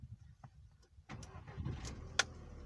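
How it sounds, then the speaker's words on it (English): A VW Mk4 GTI with the 1.8T AGU engine cranks on a freshly repaired starter and catches. There is a quiet lead-in, then a louder, sustained engine burst from about one second that continues to the end, with no talk. "So now if I try to start my car,"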